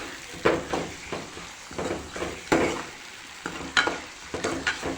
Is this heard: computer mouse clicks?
no